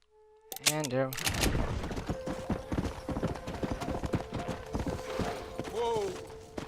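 Horse hooves clip-clopping in the Red Dead Redemption video game, a rapid rhythmic series of clear hoofbeats under a steady tonal hum, with a short whinny-like sweep near the start and another near the end.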